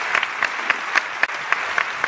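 An audience at a school writing panel breaks into dense, steady applause, loud and close, with a faint murmur of the crowd beneath the clapping.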